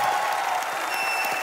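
A studio audience at a Hindi comedy talk show applauds steadily and loudly for about a second and a half as the film's star cast is introduced, a dense wash of clapping with faint crowd murmur.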